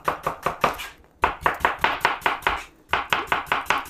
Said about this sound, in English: I think this is the best way to cut an onion